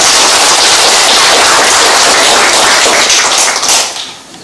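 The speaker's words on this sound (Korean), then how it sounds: "박수 한 번만 더 보내주세요." Loud, dense applause from a civic forum audience fills the hall steadily for several seconds, then thins and fades near the end, with no talking over it.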